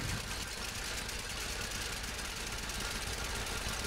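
An old John Deere Model A tractor engine in Farming Simulator 17 thumps steadily in a rapid, uniform knocking rhythm, loud and close for the whole stretch with no talk.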